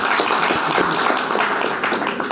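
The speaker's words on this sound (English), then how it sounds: "Give her a big round of applause." An audience at a hospital talk gives a round of applause, a dense, steady wash of clapping that stays loud throughout.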